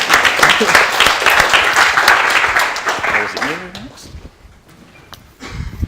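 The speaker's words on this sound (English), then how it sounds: "We'll give him a round of applause." A crowd applauds in a burst of clapping that fades out over several seconds, with a voice talking over the start.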